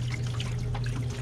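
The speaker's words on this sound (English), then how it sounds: "I think I should probably add just a little bit more water to this" Water trickling and pouring steadily into a red wiggler worm bin tray, a close, continuous dribbling stream over a low steady hum, with no talking.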